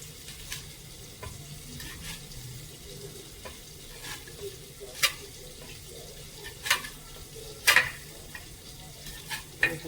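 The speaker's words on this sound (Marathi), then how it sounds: "बेसन पीठ आणि ताक टाकायचं. ते टाकलं का मग उकळून द्यायची कढी" A pot of kadhi made from gram flour and buttermilk is stirred as it heats, with soft scraping and occasional sharp spoon clinks over a low, steady background.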